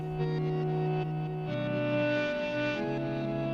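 Guitar sample played through the Kodama effect on a sampler, sustained processed tones shifting between a few pitches with a shimmering, distorted, echoing texture, steady and moderately quiet with no voices.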